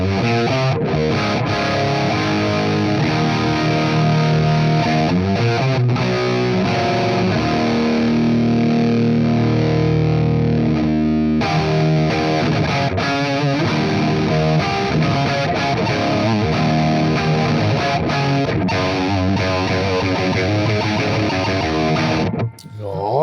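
A distorted electric guitar plays through a ToneX amp profile, with a tube in place of a silicon diode for clipping, giving a thick, compressed, continuous tone of sustained chords and riffs that runs loud and steady before stopping abruptly.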